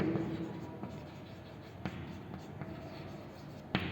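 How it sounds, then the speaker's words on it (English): Pen scratching on paper through a maths lesson, a steady soft scraping with a few sharper taps, close and fairly quiet under the room's background. "Clearly I am writing which completes"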